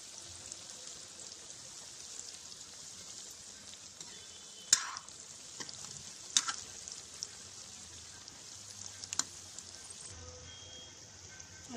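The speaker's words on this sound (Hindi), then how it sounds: "देखो करेले चंगी तरह अपने दोनों पासों तो पक चुके हैं" Faint, steady sizzling of stuffed bitter gourds frying in hot oil, with a few sharp clinks of a utensil against the pan.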